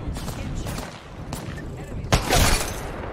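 Gunfire in the Apex Legends battle royale shooter, a sharp burst of shots cutting in near the end over a steady bed of game noise, with a voice talking faintly underneath.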